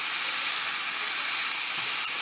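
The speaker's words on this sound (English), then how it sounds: "So I'm kind of pan frying the broccoli per se." Broccoli pan frying in hot oil in a very hot pan, giving a steady, loud, even sizzling hiss that holds without break throughout, with no voices.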